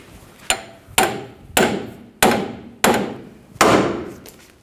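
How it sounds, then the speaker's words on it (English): Six sharp hammer blows on a pickle fork driven in to separate the Pitman arm from the steering linkage of a 1999-2007 Chevy Silverado 2500, loud metallic strikes at a steady pace, each ringing briefly. "We're gonna use a pickle fork."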